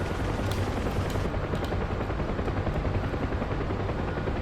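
Loud, steady helicopter rotor roar from a VR flight simulator game, with a dense, rumbling drone that stays constant throughout.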